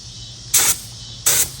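Two short bursts of spray from a sprayer coating parts outdoors, each a hissing blast under a second long, loud and close over a low background hum.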